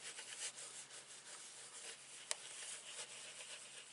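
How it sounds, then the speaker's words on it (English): A bone folder rubs firmly over paper and a glued satchel gift box seam, making faint, continuous scratchy strokes close up with one small sharp tap midway. "So I'm just giving that a good rub in my bone folder."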